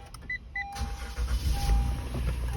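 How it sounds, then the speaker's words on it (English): A car engine turns over and catches inside a truck-driving workday, a short starter whir before a steady low rumble settles in close by. "So I need to turn on the car first,"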